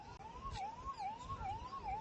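A distant ambulance siren wails in a repeating rising-and-falling pattern, faint but continuous over low traffic rumble, near a collapsed Mahisagar river bridge in Vadodara, Gujarat.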